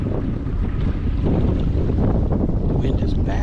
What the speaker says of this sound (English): The wind is bad, man.